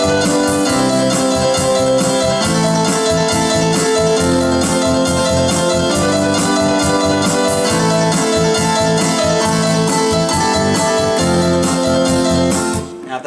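Someone plays a trill, switching quickly and evenly between two notes over sustained harmonic accompaniment. The passage is loud and continuous, with no talking, and lasts about thirteen seconds before it ends abruptly.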